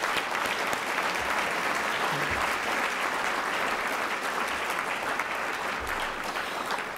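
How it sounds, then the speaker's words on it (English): Audience at the 2012 Oliver R. Grace Award ceremony applauding, a dense, even burst of clapping sustained for several seconds with no talk. "Please give them a big round of applause for tonight."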